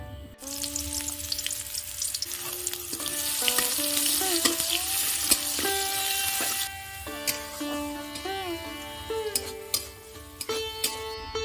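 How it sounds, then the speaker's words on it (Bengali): Chopped onion fries in oil with a dense, bright sizzle that swells and then settles, while steady whistling tones run underneath, close and fairly loud with no speech. "এবার একটা পেঁয়াজ কুচি নিয়েছি, সেটা আমি ভেজে নেব"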